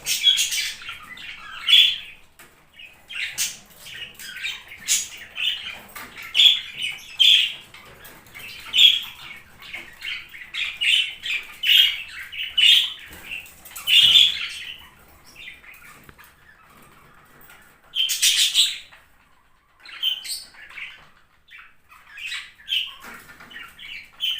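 Budgerigars chirp and squawk in scattered bursts while eating, with bright twittering calls close by, broken by brief quiet gaps and no talking.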